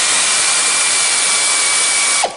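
Power tool loosening the track tensioner bolts on a Ski-Doo snowmobile, a loud steady high-pitched whine running continuously for about two seconds before cutting off abruptly.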